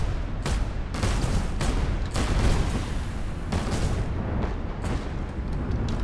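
Space ship turrets fire in the Cloud Pirates space battle game, a dense run of loud, booming cannon shots that overlap almost continuously with heavy low rumble.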